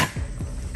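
Proboscis monkeys growling while eating, a short burst of deep guttural grunts, rough and close, with a bit of background noise.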